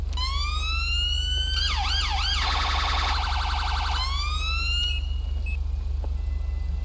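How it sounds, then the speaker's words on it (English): A police car siren in the video game GTA V with the LSPDFR mod cycles through a rising wail, a fast yelp and a rapid high-low phaser tone before winding down, loud and clean over a constant low engine hum. "Anyway, siren check."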